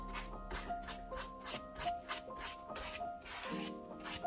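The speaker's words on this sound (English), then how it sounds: "we go and we buffer with a clean big brush" A clean big brush buffs a painted kitchen table, giving a quiet series of rhythmic rubbing strokes, about two per second, close and alone.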